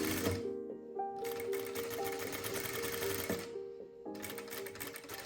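A sewing machine stitching fabric for a home-made shirt with a French seam, running in fast, steady mechanical bursts with a brief pause between them, close and clear.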